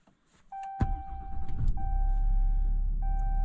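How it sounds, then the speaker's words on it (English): A Ram 2500 Laramie Night Edition diesel pickup starts up: a chime tone and a sharp click, then the engine cranks and catches into a steady, loud, low diesel idle close by. "Truck's running."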